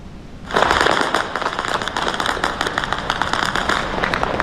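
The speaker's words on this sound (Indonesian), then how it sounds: "rentetan senjata dan ledakan terdengar di berbagai titik kota Erbil" Dense, continuous crackling bursts and pops of gunfire mixed with explosions in the distance across the city of Erbil, Iraq, rolling on without pause.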